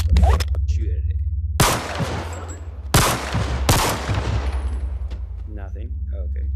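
Gunfire in the Bonelab VR video game: three loud, booming shots spaced a second or so apart, each trailing off with echo, over a steady low rumble, with brief faint voices in between.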